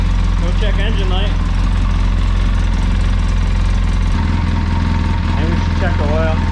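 A freshly rebuilt 800 engine idles steadily on its first start, a loud, constant low rumble with people talking over it.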